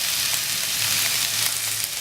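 Potatoes frying in a pan with green onion being added make a brief, continuous bright sizzle with faint stirring, loud and close throughout.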